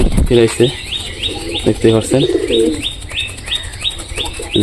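Pigeons coo repeatedly in a steady rhythm at close range, with soft chirps and a brief wing flutter among them, recorded in a pigeon enclosure during pairing.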